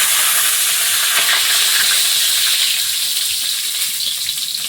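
Panch phoron and bay leaves hit hot oil in a kadai, giving a loud, steady, close sizzling hiss throughout, with no voices.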